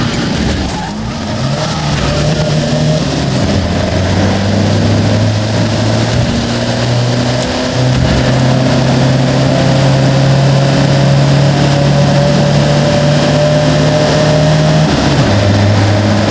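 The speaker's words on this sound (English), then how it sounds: "So that's why I selected this convoy of 4x4 vehicles, legroom for days and made to tame any road." Mitsubishi Montero 4x4 in a convoy of 4x4s driving in Forza Horizon, its engine droning loud and steady with gear-change shifts in pitch and tyre noise throughout, no talking.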